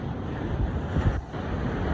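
Ocean waves washing onto a Puerto Rico beach shoreline, a continuous broad rushing wash with gusty wind buffeting the microphone, fairly loud throughout.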